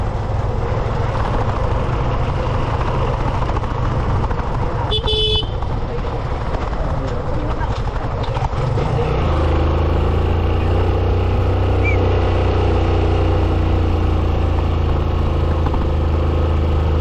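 A vehicle engine runs nearby with a steady low rumble that grows heavier in the second half, broken by a brief horn-like toot, while faint voices sit in the background.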